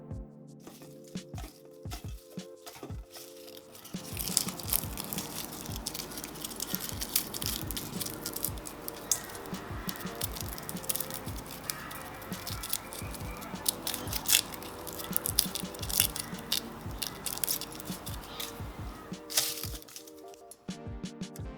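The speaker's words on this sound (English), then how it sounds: "I find the sound of garlic husk and de-skinning garlic so very soothing" Garlic cloves being peeled by hand, papery husk crinkling and rustling in a steady close run of small crackles and scratches with no talk, quiet at the start and end.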